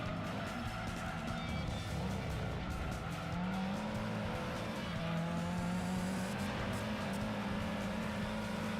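Race car in Gran Turismo 2 sliding with traction control off, engine droning steadily with a sustained tire squeal running through the whole stretch, no talking.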